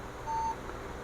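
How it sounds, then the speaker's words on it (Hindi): One short, steady electronic beep from an HP Compaq Elite 8300 desktop sounding its five-beep error code, heard alone over a faint low hum. "इसमें 5 बीप मार रहा है।"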